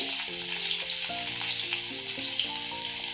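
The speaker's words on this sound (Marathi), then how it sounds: "पण आता अद्रक टाकून घेऊया तेलामध्ये, त्यानंतर हिरवी मिरची," Ginger and green chili frying in oil for a veg manchow soup give a steady, close hiss of sizzling that runs the whole time beneath tonal background music.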